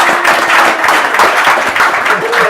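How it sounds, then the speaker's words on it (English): A live audience at the Intent '19 tech conference in New York claps steadily and loudly throughout, a dense crowd applause with some voices mixed in. "I don't know why they're applauding before instead of after."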